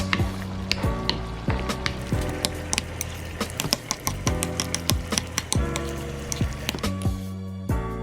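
Seasoned lasagna meat cooking in a pan, with a steady sizzle broken by repeated scraping and stirring strokes at a regular rhythm, close and fairly quiet.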